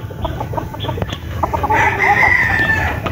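Roosters and gamecocks at a sale crow up close, with one strong, drawn-out cock-a-doodle-doo rising above a busy background of clucking birds and low noise.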